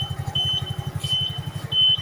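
A Singer Savari motorcycle's 72cc petrol engine runs at idle with a rapid, even low putter, steady and close.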